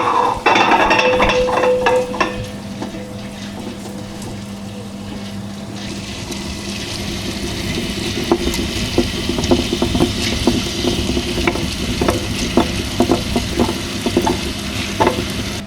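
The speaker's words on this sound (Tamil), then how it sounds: "இப்போ இதை வந்து கிரைண்டரில் போட்டு நல்லா தண்ணி விடாமல் லைட்டாக தண்ணி தெளித்து அரைச்சி எடுத்துகிட்டு வந்துடலாம் கெட்டியாக" A wet grinder grinds soaked urad dal into thick vada batter, with a steady churning rumble and a rapid run of small clicks and knocks that grows denser after a brief louder start.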